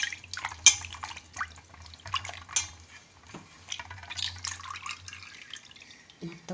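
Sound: washing free-range chicken pieces in water

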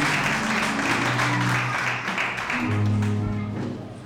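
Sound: congregation applauding in church

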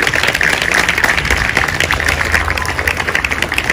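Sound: applause at a gymnastics award ceremony

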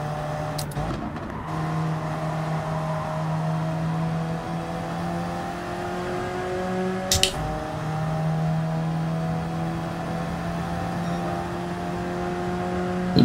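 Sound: BMW race car engine in Gran Turismo 7 video game

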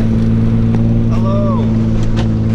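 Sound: Nissan 300ZX car driving through deep snow

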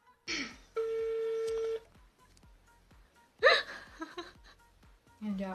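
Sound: mobile phone dialing tones

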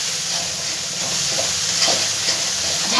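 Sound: green chillies added to frying spice paste in oil

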